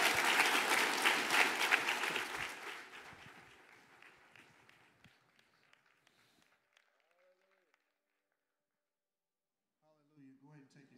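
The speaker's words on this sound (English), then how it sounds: "Clap your hands and give him praise." A church congregation claps loudly and steadily for several seconds, then the applause fades to scattered claps and near silence before a voice begins speaking at the end.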